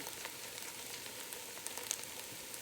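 Onions sizzling in a pan as they caramelize for French onion soup, a steady, even hiss with faint crackles and no talk.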